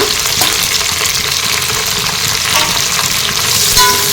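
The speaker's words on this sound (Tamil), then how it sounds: "புதினா போட்டு ஒரு 2 நிமிஷம் நல்லா கலந்து விட்டுக்கோங்க" Loud, steady sizzling of mint being stirred into frying biryani masala in hot oil, a continuous close crackle with scraping stir strokes and no talk.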